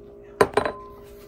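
Guinness pint glasses clink together twice in quick succession, close and clear, against a quiet room with a steady low hum.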